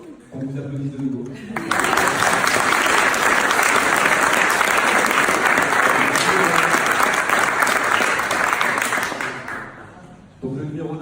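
A crowd at an agricultural video contest awards event bursts into sustained, dense applause lasting several seconds. Talk is heard briefly before it starts and again as it dies away.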